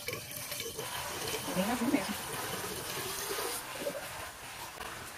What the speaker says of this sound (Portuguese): colocar um pouco de água. Água para brisa.